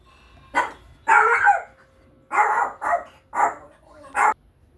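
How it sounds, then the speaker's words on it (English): A dog barks repeatedly, about six sharp barks in an uneven rhythm, loud and close with short quiet gaps between them. "The doorbell sort of rang, dog went off"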